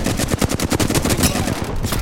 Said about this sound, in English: Shots fired, and they're here.